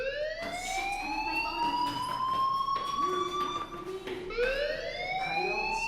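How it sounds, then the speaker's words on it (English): A fire alarm wails in the game Life Is Strange Chrysalis, its rising and falling electronic tone sounding loud and continuous throughout, with a brief dip and then a fresh sweep near the end. "do you hear that fire alarm?"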